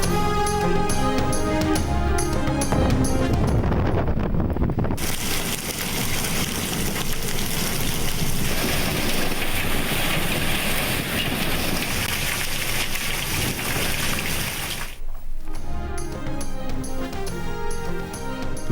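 Heavy monsoon downpour in Punjab, Pakistan, a dense steady roar of rain that runs for about ten seconds between passages of music.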